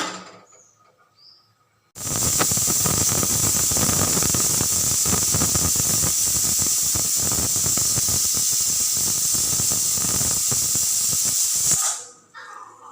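A pressure cooker cooking mutton curry whistles in one long, loud, steady hiss-squeal that runs about ten seconds before cutting off.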